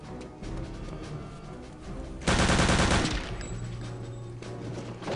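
Video game gunfire crackles at moderate level, swelling into a dense, loud automatic burst lasting about a second before settling back into scattered background shots and game noise.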